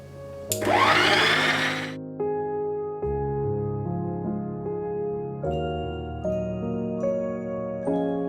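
An electric mixer runs on low, working flour into a dry, shortbread-like cookie dough for Linzer tarts. A steady motor whine holds throughout, with a louder, rougher burst near the start.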